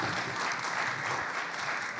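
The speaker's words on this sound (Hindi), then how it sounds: "ज़ोरदार तालियों से इस्तकबाल कीजिए" Sustained applause from an audience at an Urdu mushaira poetry gathering in Rang Bhawan, the Doordarshan auditorium, steady dense clapping filling the hall throughout with no pauses.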